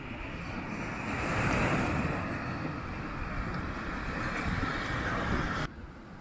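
Waves breaking on the sea shore at Sinemorets beach on a slightly choppy day, a continuous close roar of surf with wind buffeting the microphone, easing off toward the end.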